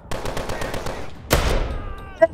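Gunfire in Call of Duty: Advanced Warfare: a quick burst of rapid shots, a brief pause, then a single loud blast with a ringing tail, ending on a sharp metallic click.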